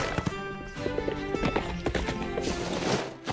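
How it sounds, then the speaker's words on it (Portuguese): Cartoon horse hooves clip-clopping during a ride, a steady close trotting rhythm over background music, with brief bits of a whinny. "Ótima cavalgada, Asterca"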